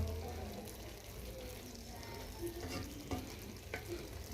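Pilau rice simmering and bubbling in a pot in a home kitchen, a steady soft sizzle with a few light stirring or scraping clicks, fairly quiet and continuous, with no talking.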